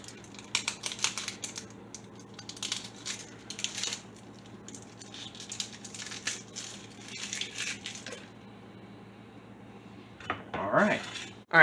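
A knife chops through half an onion on a cutting board in a home kitchen, a quick run of crisp, close tapping cuts in uneven bursts, with a brief clatter of handling at the end.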